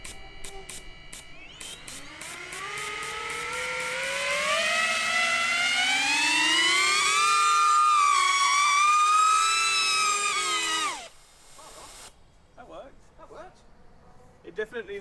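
Ducted motor and propeller of a gas thruster drone, raised slightly off the ground, running with a loud rising whine that climbs in pitch, holds steady, then cuts off, followed by faint clatter.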